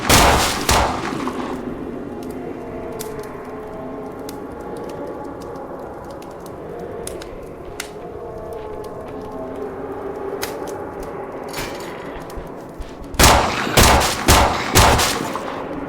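Gunshots in the video game Survive The Nights: a quick cluster of loud cracks at the start, scattered sharp clicks through a steady droning middle stretch, then another rapid burst of close, loud shots at the end.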